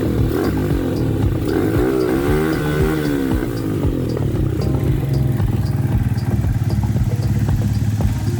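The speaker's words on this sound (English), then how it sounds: "Here we are showing you the bike now that is starting, running properly." A motorbike under restoration starts and runs properly, a loud close engine idling with a steady rapid chug and rattling clatter, its pitch wavering slightly early on before settling into an even rhythm.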